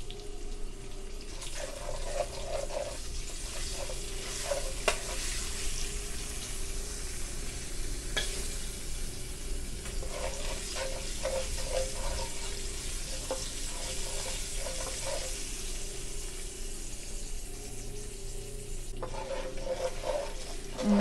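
Spices for chicken pulao fry in a pot with a continuous soft sizzle and hiss, punctuated by occasional stirring scrapes and clinks, fairly close and steady throughout.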